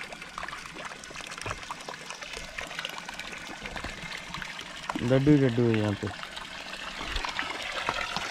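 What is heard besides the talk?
water flowing from a mountain stream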